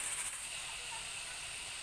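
A pressure cooker releasing its steam pressure, a loud steady hiss of venting steam held throughout without a break.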